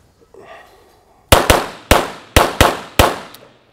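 Six sharp gunshots fired in recoil-management practice, loud and close, a rapid string of cracks at uneven spacing, each with a short ringing decay, after a moment of faint background noise.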